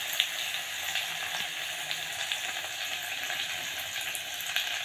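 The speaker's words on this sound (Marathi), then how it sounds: "तर आता कांदा आणि लसूण आणि अद्रकची पेस्ट टाकली आहे।" Onion, garlic and ginger paste sautéing in a mustard and cumin tempering produces a soft, even sizzle with faint bubbling, fairly quiet and without speech.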